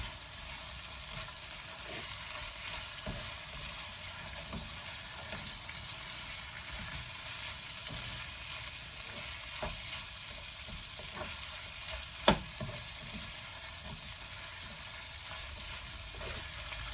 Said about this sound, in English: I'm gonna put in the beef back into the pot and give it a good stir.